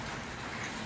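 Steady rain falls in a Kerala home setting, a dense, even patter of drops hissing on surfaces, continuous and close throughout the brief moment with no voices.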